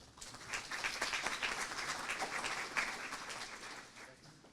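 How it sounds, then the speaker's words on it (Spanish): Audience applause welcoming a speaker to the stage at a Peruvian civil service event, a moderate, continuous burst of clapping that swells and then fades out. "Recibámoslos con un fuerte aplauso."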